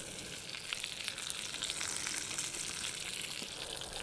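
A steady, crackling sizzle of trout skin frying in a hot pan, close and continuous with no talking.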